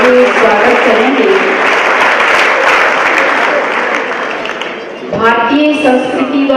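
An indoor audience at a spiritual talk in Karnal claps loudly in welcome, a dense sustained burst of applause for about five seconds before it fades and a voice takes over.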